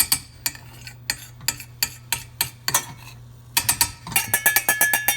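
A spoon scrambles eggs in a pan held over a flame, producing a steady run of quick metallic taps and scrapes against the pan. Faint sizzling sits underneath, and the strokes speed up toward the end. The sound is close and moderately loud.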